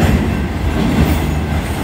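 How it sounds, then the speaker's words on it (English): A Union Pacific inbound manifest freight train rolls past at close range in Mesa, a loud, continuous low rumble of wheels on rail with rhythmic clatter and no voices. "the train slows down significantly once it reaches Mesa"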